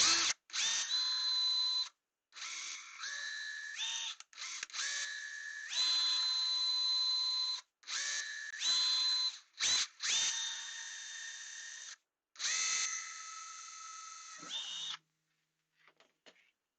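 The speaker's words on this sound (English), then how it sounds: "Never drill towards your hand." Power drill whirring in repeated bursts of a few seconds each, the motor pitch rising and falling as it starts, bites and stops, no talking.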